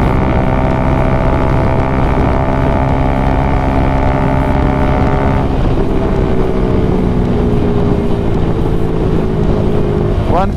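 Bajaj Dominar 400 motorcycle engine at full throttle on a road test ride, a loud steady roar with a tone that shifts midway and then settles as speed holds, under heavy wind rush and no talk.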